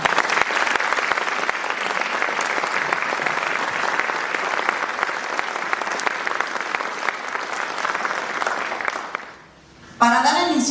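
A conference audience gives warm, sustained applause to welcome a retired Supreme Court minister before her lecture on judicial independence. The loud, dense clapping runs for about nine seconds, fades out, and then a voice begins speaking.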